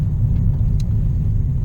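A Honda Civic Si engine idling with the muffler removed, a loud, steady low-pitched rumble heard close up without change in pace.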